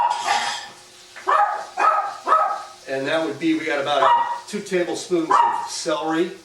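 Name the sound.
small dog barking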